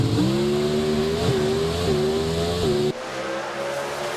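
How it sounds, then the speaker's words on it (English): An NHRA drag race car at the Summit Racing Equipment NHRA Nationals roars down the track, a loud, sustained engine scream with a rising pitch that cuts off abruptly near the end, leaving a quieter wash of crowd noise. "Greg Anderson puts her on the pole. Listen to it as it gets down track."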